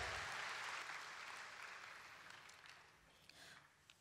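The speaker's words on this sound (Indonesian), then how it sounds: "ayuh kita berikan satu tepukan yang gemuruh buat Universiti Kebangsaan" A hall audience at a Universiti Kebangsaan Malaysia anniversary launch gives thunderous applause, loud at the start and slowly fading over four seconds with a few last claps trailing off.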